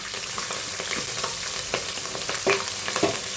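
Bay leaf, green chillies and onions frying in oil for paneer biryani, making a constant hissing sizzle with scattered light stirring scrapes, close and moderately loud, with no voices.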